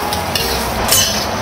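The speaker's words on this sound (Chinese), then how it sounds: "倒入肥肠" Pork intestines hit a hot wok of beef tallow, dried chilies, ginger and garlic and are stirred, giving a loud, continuous sizzle and fry with scraping stir strokes close up.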